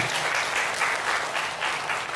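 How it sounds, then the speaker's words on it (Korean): A church congregation claps together during a Sunday sermon, giving dense, sustained applause from many hands that stays loud and even throughout, with almost no voices over it. "여러분, 우리 박수 한번 칩시다, 진짜."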